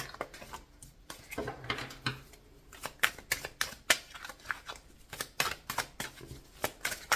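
Tarot cards being shuffled and drawn by hand, a run of quick crisp riffling slaps and flicks at close range, irregular bursts with short pauses between them, with no talking.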